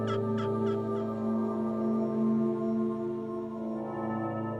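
Young wild turkey jakes call in short repeated bursts near the start, then fade, over a steady low hum of background noise in open country in Mexico.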